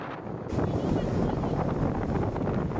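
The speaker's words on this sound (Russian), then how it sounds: "Тут такие волны, ветер просто сбивает с ног." Strong sea wind roars against the microphone on the shore of the Sea of Azov, a loud continuous buffeting that rises sharply after a brief quieter start.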